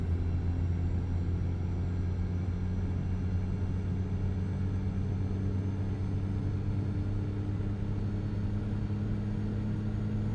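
Toyota SUV driven in Euro Truck Simulator 2, a steady low engine drone and road rumble holding an even pitch throughout, continuous and fairly quiet with no talk.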